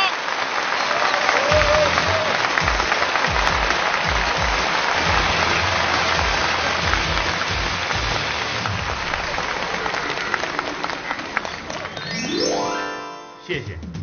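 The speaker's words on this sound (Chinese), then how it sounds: "谢谢现场两万多观众热烈的掌声" A large live audience at a television variety show breaks into sustained, dense applause that fills the clip, tapering near the end as a rising electronic tone sweeps in.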